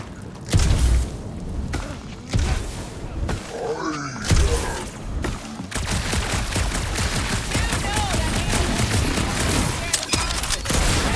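Gunfire in the video game Marvel's Guardians of the Galaxy, with loud sustained bursts of rapid shots and booms in a dark cave setting, partly mixed with voices and grunts before a dense continuous barrage.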